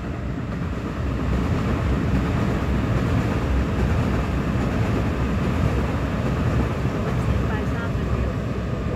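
An EMU900 electric train crossing the Kaoping railway bridge, producing a dense, steady roar and rumble that stays loud and constant for the whole stretch, with no clear voices.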